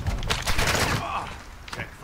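Rapid burst of gunfire in the Warzone 2 video game, a dense crackling volley under players talking over it, fairly loud.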